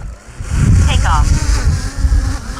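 A DJI Mini 5 Pro drone lifts off at a windy coast, its buzzing whine rising over heavy low wind rumble, with a voice speaking briefly nearby.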